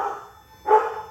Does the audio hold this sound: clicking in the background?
no